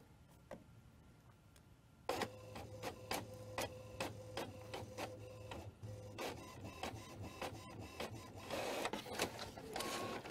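An HP printer whirs into action after a quiet start, feeding and printing a page with rapid rhythmic mechanical clicks and a steady motor hum, close and fairly loud.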